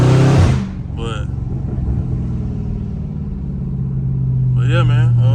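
A Dodge Charger Scat Pack engine idles loudly with a deep exhaust drone, rising into revs, while someone talks briefly over it.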